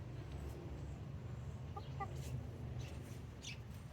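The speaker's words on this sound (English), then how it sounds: "Chickens are weird." Quiet, faint chicken clucks from a backyard flock, a few soft short calls sitting over a steady low background rumble.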